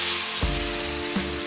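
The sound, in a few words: masala sizzling while being sautéed in a pan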